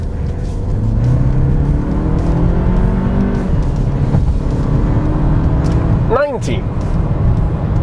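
Nissan X-Trail with the 1.3-litre 160 HP turbo engine accelerating hard, a loud steady engine drone rising through the revs with a quick upshift near the end, heard from inside the car.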